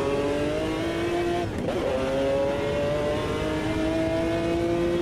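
A Ferrari 512 BB LM with a V12 engine revs in the Automobilista 2 racing game, its tone climbing steadily with a brief dip mid-way as it shifts, then pulling up again, loud and close with no talk.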